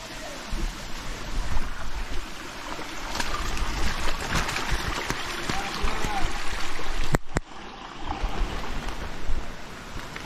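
A waterfall and flowing water near the village of Ombali in Poladpur, Raigad, during heavy monsoon rain, a steady close rushing roar that continues under people talking.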